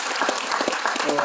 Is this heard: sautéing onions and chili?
no